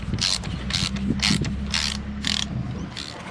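A 16mm socket on a ratchet working loose a small outboard motor spark plug: a rapid series of metallic ratchet clicks in five or six short close bursts, with a low mechanical hum underneath.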